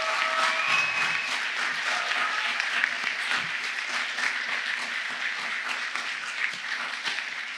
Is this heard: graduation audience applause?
yes